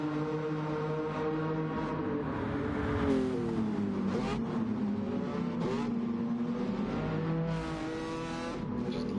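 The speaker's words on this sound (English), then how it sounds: "Just listen to these cars when they shift down. Just an angry exhaust note in these little puppies." Gran Turismo 7 race cars in an endurance online race, engines revving and downshifting with an angry, crackling exhaust note, steady and loud throughout with rising and falling engine pitch and no talking.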